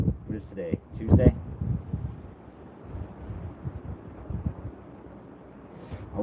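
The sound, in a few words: strong wind blowing outdoors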